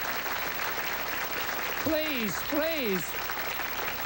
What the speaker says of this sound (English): Listen to it, the applause for those two folks here.